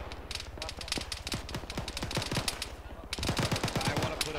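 Helicopter machine gun fire in ARMA 3 comes as rapid, evenly spaced bursts of shots, fairly close and loud, with a short pause partway through before the firing resumes.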